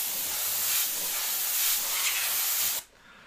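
Spray paint hisses in one continuous, loud, close burst for close to three seconds as it builds hair texture on a sculpted skull, then cuts off abruptly into near silence.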